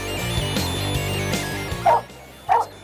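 Dogs bark in several short, sharp bursts, with whimpering yips in between, fairly close and loud, no talk over them.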